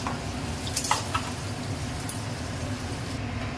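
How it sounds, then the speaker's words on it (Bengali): Onions frying with a little salt in a pan at home, giving a steady soft sizzle with a few brief clinks and stirring scrapes near the start, with no talking. "পেঁয়াজটাকে ভালো করে লাল লাল করে ভেজে নেব।"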